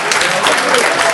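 High school students in a classroom break into brief, lively applause, a dense burst of many hands clapping close by that lasts only a moment.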